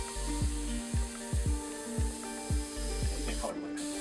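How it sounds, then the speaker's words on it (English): Iwata Eclipse CS HP or Paasche Talon TG airbrush fitted with a 2 nozzle tip, sending out a steady hiss of paint, broken by short rhythmic bursts of clicking and tapping from the trigger. "Now this airbrush."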